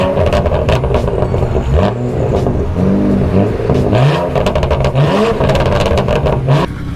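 A loud BMW 335i revs hard while driving on a foggy road, its engine climbing repeatedly through rising pitch sweeps between gear shifts, with crackles and pops from the exhaust, close and aggressive throughout.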